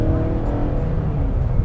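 A 2017 Mazda CX-9 seven-seat SUV drives in sports mode, its engine a loud, steady low drone heard from inside the cabin.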